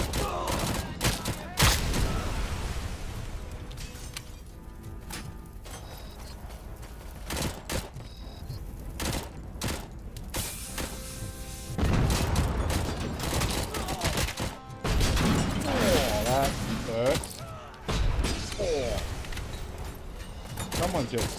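Repeated grenade blasts and gunfire crackle through a firefight in the video game Robocop Rogue City, loud bursts recurring in clusters over the whole stretch, with someone talking intermittently between them.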